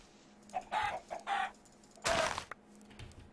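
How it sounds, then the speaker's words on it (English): Minecraft chicken clucking in a modded game, three short squawky clucks close up, the last one louder and longer, with no talk over them. "Die, chicken!"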